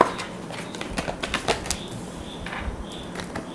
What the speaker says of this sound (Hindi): थोड़ा सा और शफल कर लेती हूँ मैं।